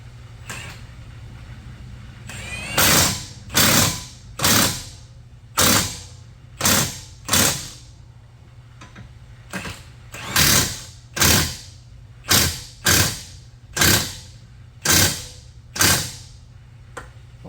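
An impact gun drives in the front brake bolts on a Mercedes S550 W222, firing about a dozen short, loud, sharp hammering bursts in quick groups with brief pauses between.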